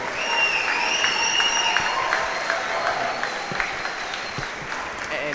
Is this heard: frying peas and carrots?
no